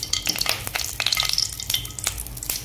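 Oil sizzles and crackles in a hot pan for frying potol, alongside green chilies, curry leaves, crushed garlic and dried red chilies, with steady close-up spitting and occasional stirring scrapes.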